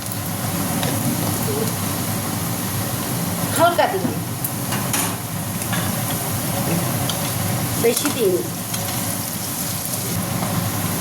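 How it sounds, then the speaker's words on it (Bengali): Potatoes with a little turmeric fry in a pan, giving a steady sizzle with occasional stirring clatter while someone talks over it. "এই দেখো আমার আলুটা ভাজা হয়ে যাচ্ছে আস্তে আস্তে"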